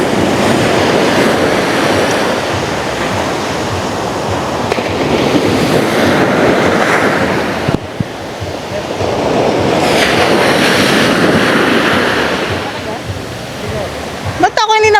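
Loud ocean surf crashes and washes up the beach at La Union, surging in two broad waves that build and recede, with a dip in the middle and brief voices at the end.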